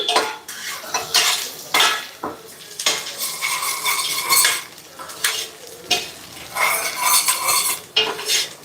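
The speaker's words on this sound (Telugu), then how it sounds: "ఫస్ట్ అయితే పల్లీలు వేసుకుందాం అవి వేగాక మిగతా ఏమన్నా వేసుకోవచ్చు" Peanuts frying in a pan while a metal spoon stirs and scrapes them, giving repeated loud clattering strokes over a soft sizzle, with no talk.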